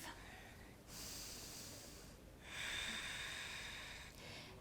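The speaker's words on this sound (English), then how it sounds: "We breathe." Slow, deep breaths during a yoga practice, two long airy inhales or exhales close to the microphone, each lasting over a second, separated by quiet pauses.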